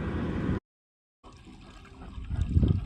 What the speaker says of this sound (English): gas going in